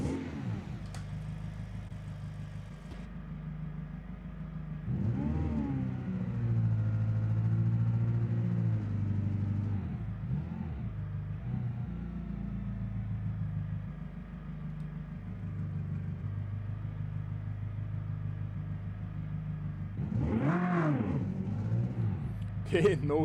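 Car accelerating down a quarter-mile drag strip, a mid-pitched engine droning and rising through revs at moderate distance, fading between bursts, with a person talking over it.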